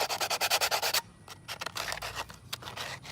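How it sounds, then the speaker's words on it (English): Sandpaper rubbed by hand to clean up a part for a DIY quick-connect sprinkler, a fast run of close, rhythmic scratchy strokes followed by a few looser, irregular rubs. "Take your sandpaper,"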